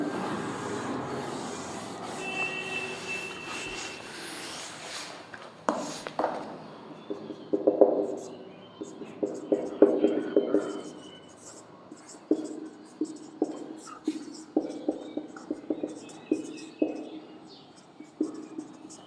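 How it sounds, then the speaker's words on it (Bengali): Chalk or marker rubs across a board during an economics lesson, first in a longer scratchy stretch, then in a string of short, regular strokes, with faint background sound. "আচ্ছা এটা আমি একটু ওপরে লিখছি"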